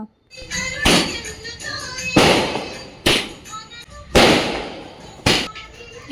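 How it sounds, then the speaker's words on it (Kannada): Several sharp, loud firecracker bangs from large firecrackers during Diwali burst at irregular intervals outdoors, each cracking then decaying, with voices audible between the blasts. "ಪಟಾಕಿ ಎಲ್ಲ ಹೊಡೆದ್ರು ಅವರೇನೆ ನಾನೇನು ಹೊಡಿಲಿಲ್ಲ ಎಲ್ಲ ದೊಡ್ಡ ದೊಡ್ಡ ಪಟಾಕಿ ಎಲ್ಲ"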